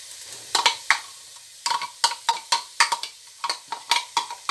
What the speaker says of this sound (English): I'm going to fry the onions first.